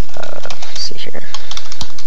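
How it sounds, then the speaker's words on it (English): A password is typed on a computer keyboard: a quick, loud run of close keystroke taps, with a voice partly overlapping. "And then you type in your password"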